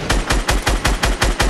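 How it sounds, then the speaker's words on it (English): Automatic gunfire in Fortnite rings out from a factory as a fast, even burst of about seven loud, close shots. "She's shooting in the factory"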